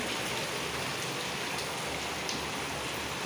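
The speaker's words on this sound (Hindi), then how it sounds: "तेज है बारिश तो जा रही है।" Heavy monsoon rain pours steadily onto a surface in a dense, continuous hiss, loud and close throughout with no voices.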